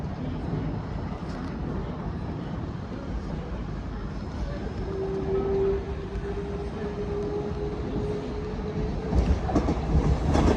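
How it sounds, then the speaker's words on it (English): A pair of South Western Railway Class 444 electric trains bound for Weymouth passes through Clapham Junction, a steady low rumble with a faint sustained tone and some rail clatter building toward the end. "There's another pair of South Western Railway 444s are about to come through, bound for Weymouth"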